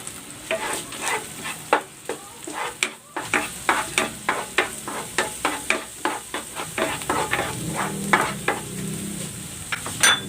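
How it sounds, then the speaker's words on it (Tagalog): Garlic sizzles in a hot pan while a utensil stirs and scrapes it in a steady, repeated rhythm, the clinks and scrapes sharp and close over a constant frying hiss, with no talking. "Magigisa na ako ng bawang."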